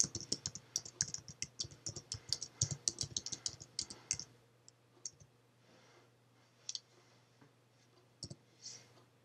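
Computer mouse clicks and keyboard typing at a desk while saving a file in Photoshop: a dense run of quick, close clicks for about four seconds, then a few scattered single clicks over quiet room hum.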